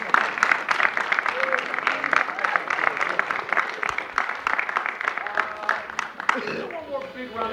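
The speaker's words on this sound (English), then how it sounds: "One more big round of applause." Audience at an improv comedy show claps in a steady sustained round of applause, crisp individual claps dense throughout and tapering off near the end as a voice comes in.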